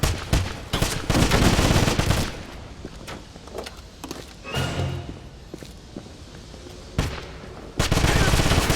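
Bursts of rapid automatic gunfire from the video game Wolfenstein: The Black Sun fire in loud, dense volleys separated by short lulls, with scattered single shots and battle noise in between.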